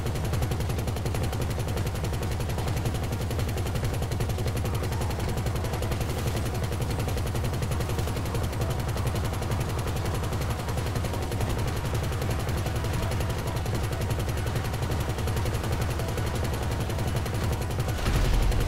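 Sustained gunfire in Grand Theft Auto V during a heist convoy setup, dense rapid automatic bursts and shots running continuously at steady loudness for the whole stretch.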